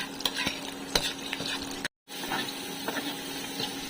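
Garlic sautéing in a pan, a close steady sizzle with scraping stir strokes and light clinks, briefly cut to silence midway before resuming.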